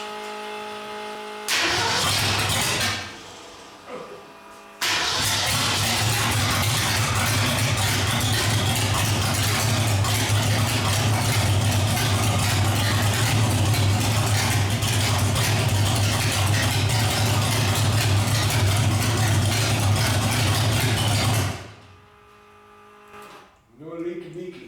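A rat rod car engine cranks, starts and then settles into a loud, steady idle fed by an electric fuel pump, running close by and alone for about seventeen seconds before shutting off.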